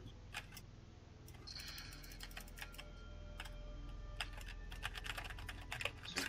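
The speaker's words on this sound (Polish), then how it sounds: "Was słychać tylko twoją klawiaturę." Computer keyboard typing with rapid, irregular clacking keystrokes, close and steady through a gaming session, with a low background hum and no talking.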